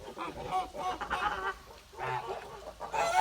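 Kholmogory geese honk repeatedly in a noisy outdoor setting while moulting, overlapping nasal calls at moderate distance with a louder burst near the end.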